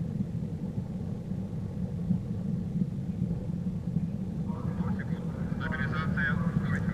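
A rocket launches the ASTRA 2G satellite toward orbit, heard as a steady, broad low rumble that holds throughout, with faint voices appearing near the end.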